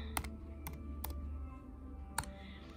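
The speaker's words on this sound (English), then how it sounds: "So I'm just gonna go ahead and type in practice." Someone typing on a computer keyboard; four sparse, crisp key clicks, quiet and close, over a low steady hum.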